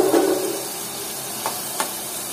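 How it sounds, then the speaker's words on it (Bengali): Shrimp and potatoes stir-frying in a pan, a soft continuous sizzle and hiss with a few brief stirring scrapes, close and moderately quiet. "এই তো চিংড়ি মাছ আলু ভালোভাবে কষিয়ে নেওয়া শেষ।"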